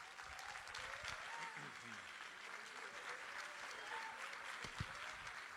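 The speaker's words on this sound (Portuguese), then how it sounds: "Tá fraco esse aplauso, hein? Pode ser melhor." Applause from a congress audience at a public theology event, a steady, fairly soft wash of clapping lasting several seconds with faint voices mixed in.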